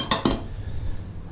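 A pan of gluten-free fried chicken set back into the oven, two quick metallic clinks of the pan against the rack in close succession, then quiet.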